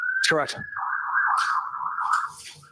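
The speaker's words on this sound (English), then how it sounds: "Sorry for the sirens." Siren wailing outside, a long steady tone rising and falling slightly in pitch, fairly loud behind a voice that speaks briefly at the start.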